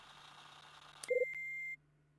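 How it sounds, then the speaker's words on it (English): A beep in the video game Last Window: The Secret of Cape West: a short trio of quick electronic blips and a sustained steady tone, clean and close over a low hum, with no voices. "Beep."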